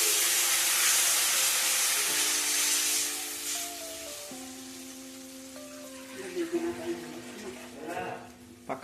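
Loud hissing sizzle as water is poured into a hot pan while making upma, fading over several seconds into a softer bubbling simmer, with faint tonal hum underneath.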